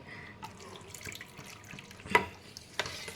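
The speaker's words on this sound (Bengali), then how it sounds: "দুধটা আস্তে আস্তে ঢেলে দিচ্ছি" Milk poured slowly into sour yogurt whipped to a creamy texture, for sweet yogurt made in a shop style: a soft, faint liquid trickle in the background, broken by a few small clinks and taps, with no talking.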